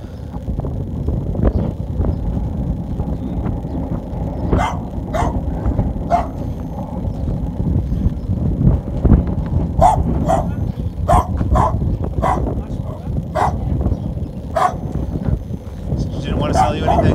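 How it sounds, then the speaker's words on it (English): Several dogs bark in scattered bursts at a distance in a small Polish village, over constant wind rumble, with people talking nearby. "Running in the dogs in the village."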